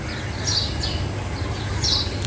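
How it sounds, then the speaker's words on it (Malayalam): Several bird chirps ring out in short bursts over a steady low hum of outdoor background noise, at 6:30 in the morning at Murdeshwar temple. "നോക്കുകയാണെന്ന് വെച്ചാൽ ഫുള്ള് കിളികളുടെ ശബ്ദം"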